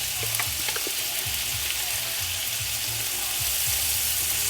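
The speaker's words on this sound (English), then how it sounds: "mix it and saute it for a couple of minutes" Chicken sizzles and fries in a hot pan while being stirred, a steady dense crackle with soft scraping stir sounds, close and continuous with no talking.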